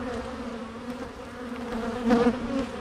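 Honey bees hum in a steady, dense drone around an open, queenright hive full of young larvae. The buzz is close and swells briefly louder near the end.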